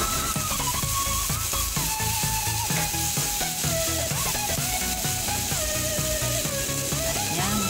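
Fried tempe being stir-fried in a pan, a continuous dense sizzle with steady scraping and clinking of a utensil against the pan throughout, close and fairly loud with no talk.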